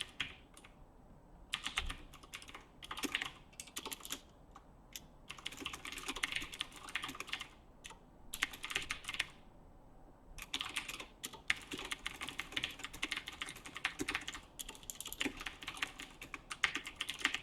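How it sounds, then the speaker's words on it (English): Typing on a computer keyboard, close and fairly quiet, in bursts of rapid key clicks separated by short pauses, with no talking. "as I'm typing all this"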